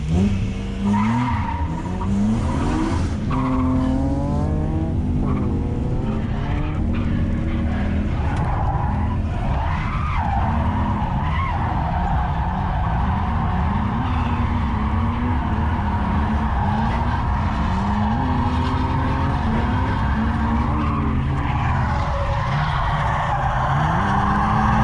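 A drift car at Logatec skids with long, wavering tire squeals over a roaring engine, loud and sustained through the whole run.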